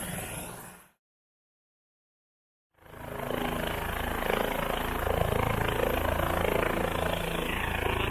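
Helicopter engine and rotor at close range, a loud steady roar with heavy wind noise, broken by a sudden dropout of about two seconds before the drone returns and holds.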